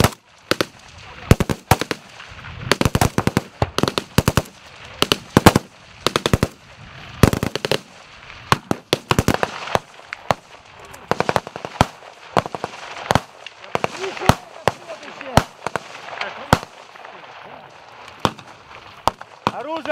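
Machine gun firing incendiary tracer rounds during a military training exercise: loud, sharp bursts of rapid shots repeated in irregular volleys over several seconds, with voices talking between the bursts.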